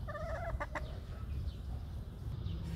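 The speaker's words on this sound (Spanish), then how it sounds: "esto es una hermosa gallina" A large hen clucks in a short series of close, rhythmic calls over steady low background noise.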